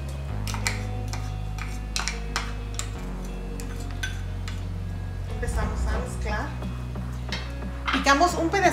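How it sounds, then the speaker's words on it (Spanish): Onion and a piece of ancho chile are stirred in a pan with a little olive oil. A utensil scrapes and clinks steadily against the metal, with a busier flurry of clatter near the end, over a continuous low background hum. "Empezamos a mezclar."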